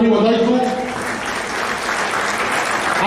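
An audience at a college freshers' welcome event bursts into sustained clapping that fills the room, with a speaking voice heard briefly at the start before the applause takes over.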